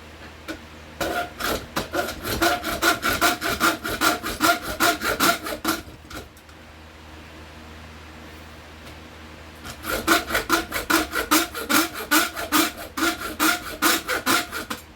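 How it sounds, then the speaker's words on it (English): A handsaw rasps back and forth through whitetail deer bone in quick, rhythmic strokes, close up; the sawing pauses for a few seconds, then resumes with another fast run. "I've got a little handsaw I'm going to try to use"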